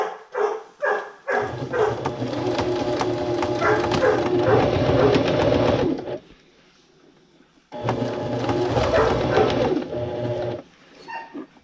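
A sewing machine runs a straight, long stitch through thick gun case material, buzzing loudly in two sustained bursts separated by a pause, with a few short mechanical knocks at the start and a brief one at the end.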